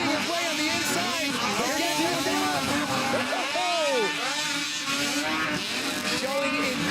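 Snowmobiles racing in a SnoCross event, several engines whining and revving with constantly rising and falling pitch as sleds pass, loud and continuous under excited commentary.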